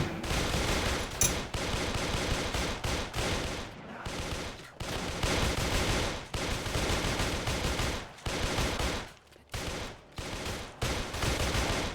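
Sustained automatic gunfire at zombies in a city-building video game, rapid machine-gun bursts nearly continuous for the whole stretch, broken by a few brief pauses, loud and close with no talking over it.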